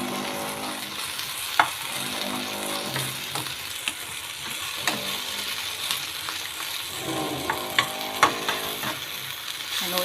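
Tofu sisig with mayonnaise sizzling in a pan as it is stirred, continuous frying hiss with scattered scraping and tapping of a utensil against the pan, no voices.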